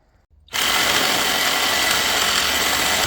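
A power saw cutting off a glass pack exhaust pipe on a Ford F100 in a garage, starting abruptly after a brief quiet lead-in and continuing as a loud, steady, harsh grinding whine.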